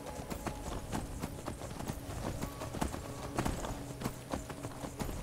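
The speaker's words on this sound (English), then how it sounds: "I would say the horse can sprint for quite a bit further now." A horse gallops along a path in the Skyrim video game, its hooves making a steady, fairly close clip-clop rhythm that runs continuously without speech.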